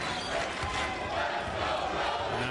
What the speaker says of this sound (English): Now you hear the Rhode fans cheering on their Rams.